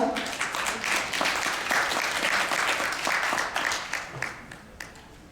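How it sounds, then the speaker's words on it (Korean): Warm applause from a conference audience welcoming a keynote speaker at a Korean medicine tourism event, many hands clapping briskly and evenly before tapering off into a few last claps. "여러분 뜨거운 박수로 맞이해 주십시오"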